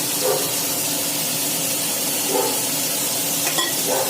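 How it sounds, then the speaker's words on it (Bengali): Shrimp fry in a pan for a shrimp, potato and pumpkin curry, giving a soft, continuous sizzle with a few faint stirring scrapes, fairly quiet and with no talk over it. "এবার এটাকে একটু ভালো করে ভাজা ভাজা করবো।"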